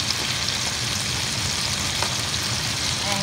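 Chicken thighs sauté over medium heat in a pan, giving off a loud, steady crackling sizzle with no pauses and no one talking.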